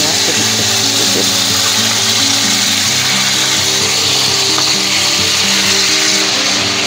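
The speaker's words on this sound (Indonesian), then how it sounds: "Sekarang masukkan air ya untuk memasak bumbunya sedikit-sedikit." Water added to spice paste frying in a pan with salam leaves, kaffir lime leaves and galangal for sambal goreng with potato, liver and petai, giving a steady, loud, close sizzle and bubbling throughout with no talk.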